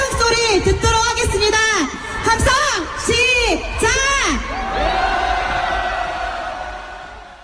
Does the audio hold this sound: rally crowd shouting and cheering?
yes